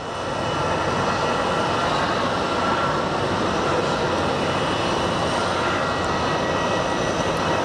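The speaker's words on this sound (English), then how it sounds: "look at the United Airlines that's flying from San Diego. It's flying from Washington to San Diego. He is circling right above Avondale." A United Airlines airliner on a Washington to San Diego flight, circling overhead near Sky Harbor International Airport, giving a steady, loud broadband engine roar that holds constant throughout.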